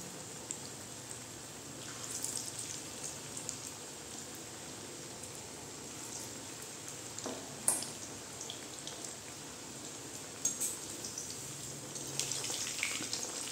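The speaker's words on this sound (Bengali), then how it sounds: "এভাবে একটা একটা করে ছেড়ে দেবো তেলে।" Potato pakoras frying in hot oil give a steady, quiet crackle and fizz with scattered small pops, and no voices are heard.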